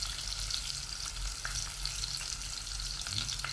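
Pork adobo with plenty of garlic frying in a pan, giving a steady close sizzle and hiss throughout with faint stirring scrapes, no talking.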